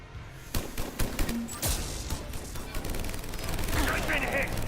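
Gunfire in the sci-fi shooter Mass Effect 3, with a rapid fusillade of shots and sharp impacts over a steady background of game combat noise.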